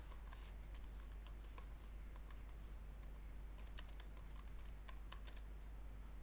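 Fingers type a name for a body in CATIA V5 on a computer keyboard, producing faint, irregular bursts of quick key clicks with short pauses between them, close by and without any voice.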